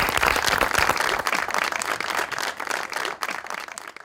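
A studio audience at a Pakistani comedy talk show breaks into loud, dense applause, many hands clapping together steadily and fading slightly toward the end, with no talk over it.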